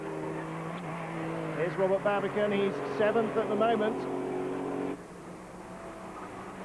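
Porsche race cars roar past in the Pirelli Porsche Cup, engines climbing through gears in a busy pack before fading, with a commentator speaking over the racing throughout.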